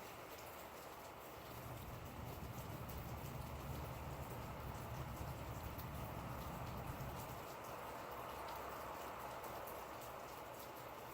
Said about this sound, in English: Sounds like the rain's subsiding a little bit.